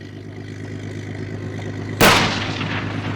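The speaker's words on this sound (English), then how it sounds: "It was taken over as the best place in the country for tank firing" A single heavy tank gun blast booms partway through on a live firing range on rugged Welsh coastline, rising suddenly over a steady engine rumble and then rolling away slowly.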